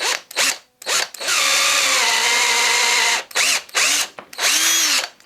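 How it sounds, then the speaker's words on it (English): Power drill boring holes through a fishing lure clamped between pieces of wood: a loud, sustained whine that rises in pitch, framed by several short bursts as the trigger starts and stops, heard close up with no talking. "I'm just going to drill the two holes as far apart as reasonable."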